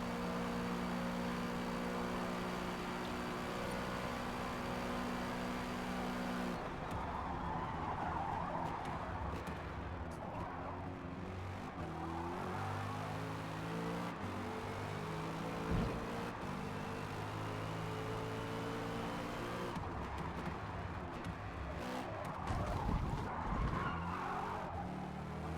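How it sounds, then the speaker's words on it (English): Lexus race car driven on hard tires at Daytona in Forza Motorsport, engine droning steadily for the whole stretch with shifting gear tones and a slide partway through, with no voices. "Went in a little bit aggressive with a little bit of a slide just to make sure that car got turned"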